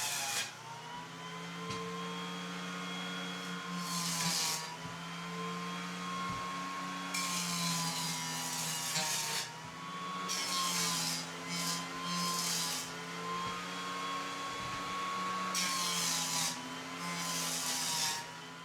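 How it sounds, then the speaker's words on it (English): A jointer planes the face and edge of a 2x4 board in repeated passes, each one a loud rising rasp of cutter on wood over the machine's constant whine. No one speaks. "I'm going to join a face and a side so that my gloves are nice and tight"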